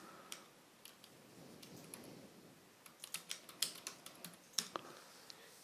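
Keys clatter on a computer keyboard in a quiet room, scattered taps at first and then a quicker run of faint, close clicks.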